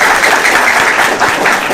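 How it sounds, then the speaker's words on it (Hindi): An audience claps loudly and steadily at a DXN product meeting, a dense wash of hands with no voices over it. "एक बार जोरदार ताली होना चाहिए।"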